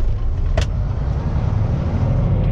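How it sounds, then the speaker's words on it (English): A truck engine idles steadily, a constant low rumble throughout with a brief click partway through. "Truck's running good right now."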